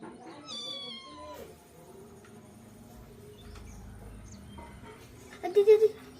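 A small kitten meows in a series of thin, rising cries early on, with a louder close meow burst near the end, over a quiet room background.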